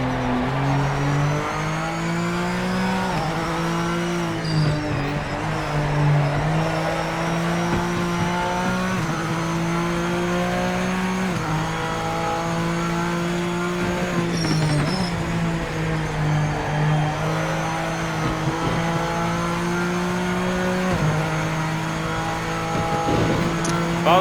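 A GT3 race car in a racing video game roars continuously, with the engine note climbing and dropping through repeated shifts and short bursts of tire squeal, loud and close with no talking.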